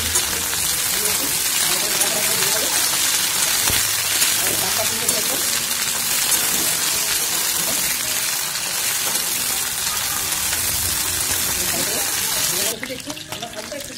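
Cauliflower florets frying in hot oil, a dense, loud, steady hiss and crackle that runs throughout, close and continuous, with a rustling shift near the end.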